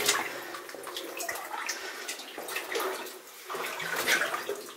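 Sloshing and splashing water in an old gold mine in the Sierras as someone wades through deep water, with steady churning surges rising and falling close by.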